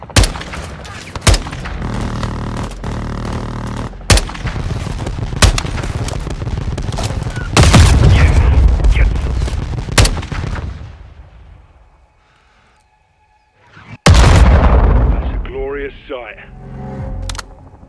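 Gunfire and air strike explosions in the video game Call of Duty: Modern Warfare II, with repeated loud blasts and heavy shots over a rumbling battle bed, a brief near-silent lull, then another big blast, with radio voices talking throughout.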